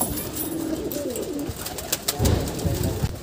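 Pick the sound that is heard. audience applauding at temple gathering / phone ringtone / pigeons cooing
pigeons cooing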